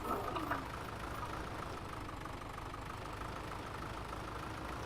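A tractor engine strains as it pushes a load heavier than itself, a steady mid-pitched drone at constant loudness throughout, with no other voices.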